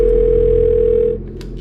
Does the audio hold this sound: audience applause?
no